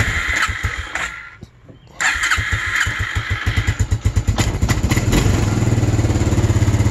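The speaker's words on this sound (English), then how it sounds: "it'll start up and idle, and it'll even rev for a second, but then stop, and it'll putt, putt, putt, putt, putt" A 1999 Arctic Cat 300 4x4 ATV that bogs under throttle cranks, catches and revs loudly up close, then settles into an uneven, pulsing putt-putt as it sputters.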